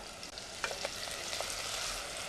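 Onions sizzle in a pan with spices, a dense steady frying hiss with a few small crackles and pops, quiet and without speech.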